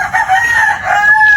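A rooster belonging to a family's flock crows once, loud and close, in a long, wavering call with no voices around it.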